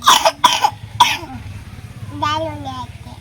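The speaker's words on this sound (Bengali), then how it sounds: "খুব কাশি" Three sharp coughs in quick succession, close to the microphone, followed by someone speaking briefly.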